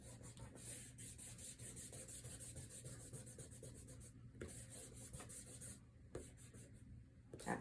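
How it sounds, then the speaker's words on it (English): A kneaded eraser rubs back and forth on paper during a pen and watercolor kitchen still life, soft close scrubbing strokes with brief pauses, faint and with no voices. "And I'm using a kneaded eraser"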